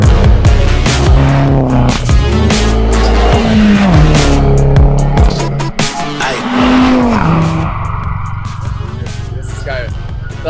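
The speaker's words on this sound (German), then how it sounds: "Dieser Mini hatte mal 70 PS, jetzt hat er 400 PS." A tuned Mini, uprated from 70 to 400 hp, drives hard with its engine revving through rising and falling gear changes and tires squealing, loud and close throughout, while people talk over it inside the car.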